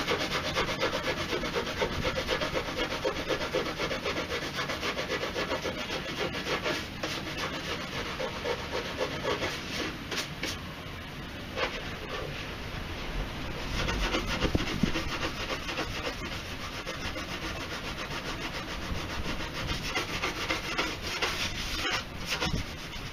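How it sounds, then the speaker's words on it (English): Fiberglass clone trooper armour parts are rubbed down by hand with steady, close scraping and sanding strokes that go on with no break, and a few small knocks come through along the way. "I'm just going to give these a little rub down here."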